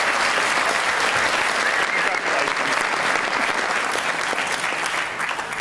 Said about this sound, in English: That's got to be worth a round of applause.